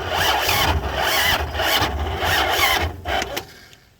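A 239 V6 engine cranks and catches on its first real start, running rough and loud with uneven pulses for a few seconds before dying away.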